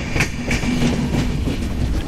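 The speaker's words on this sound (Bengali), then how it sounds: "Sagardari express Chuadanga railway station থেকে ছেড়ে যাচ্ছে" The Sagordari Express pulls out of Chuadanga railway station, its wheels producing a steady clickety-clack over rail joints under a low continuous rumble, moderately loud and without voices.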